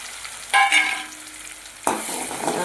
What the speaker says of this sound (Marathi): आणि आता या तेलामध्ये आपल्याला टाकायचं आहे मिक्सरला बारीक केलेली ही गिरवी, खोबरं, लसूण आणि अद्रक पेस्ट.